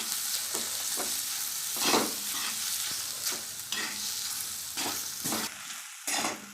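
Okra (bhindi) for besan bhindi dry-roasting in a pan while being stirred: a soft continuous sizzle with repeated scraping strokes of a spatula, moderately quiet and close.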